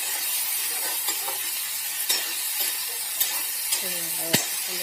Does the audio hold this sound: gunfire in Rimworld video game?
no